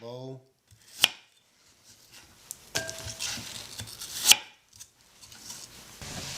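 Apples being sliced into eight even sections in a kitchen, a few sharp separate cuts and knocks against the board spaced irregularly, close and fairly quiet between strokes, with no talking.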